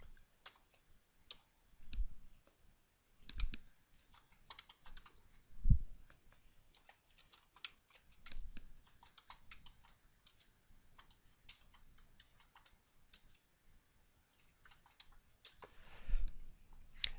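A computer keyboard is typed on to enter a long spreadsheet formula, with soft, quiet clicks arriving in short irregular bursts and pauses between them.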